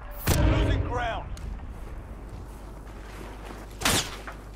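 Gunfire in the video game Warzone, a couple of sharp loud blasts with a lingering rumble between them, as a voice speaks briefly over the action.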